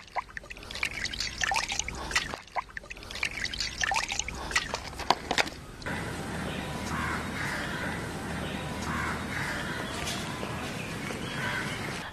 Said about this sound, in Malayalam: നമുക്കത് ഒരു വെള്ളത്തിനും കൂടെ കഴുകാം.